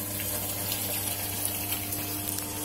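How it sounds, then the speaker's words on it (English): Water rushes steadily into a washing machine as it fills for a load of jeans, a continuous hissing flow with a low mechanical hum beneath, close and even throughout, no voices. "Water is coming."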